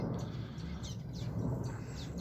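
Small exotic birds in an outdoor aviary give faint, scattered chirps and tweets over a steady low rumble of background noise, with no one talking.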